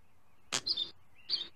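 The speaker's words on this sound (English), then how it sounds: "Homer, there's a bird on your head" A cartoon bird chirps in two short bursts, a sharp, bright tweet followed by a quick repeat, close and clear against quiet.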